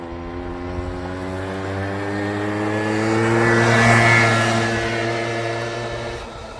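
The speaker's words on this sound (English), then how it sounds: "So we're gonna go out and make a mud hole. And doing donuts at the same time." A vehicle doing donuts in soft mud to carve out a mud hole: a steady, droning engine that swells louder toward the middle as it circles closer, then eases off again.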